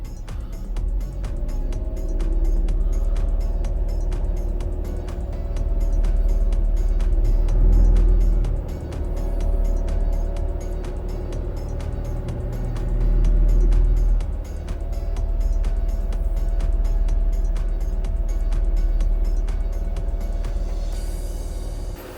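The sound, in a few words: road noise inside Perodua Ativa car on highway at 2500 rpm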